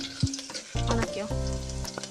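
Ginger garlic paste with cinnamon and spices frying in a pan for a prawn fry, a steady close sizzle with bursts of stirring and scraping, no voices.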